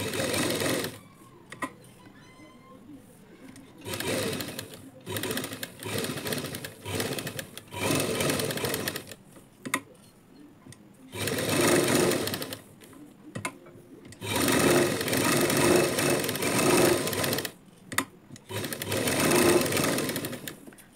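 A sewing machine stitches a lined blouse, running in repeated bursts of steady whirring, some long and some short, with brief pauses between runs, close and clear.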